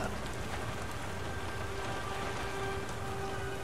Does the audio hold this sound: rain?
yes